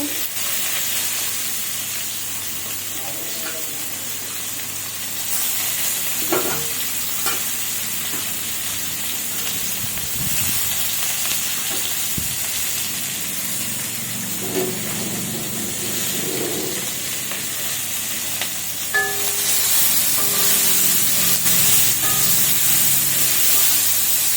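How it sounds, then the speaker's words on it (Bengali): Sliced onions fry in hot oil for birista, a continuous hiss and sizzle that surges louder partway and again near the end, with scattered clinks and stirring noises but no speech. "এখন বেরেস্তার জন্য পেঁয়াজটাকেও ভাজতে দিয়ে দিই"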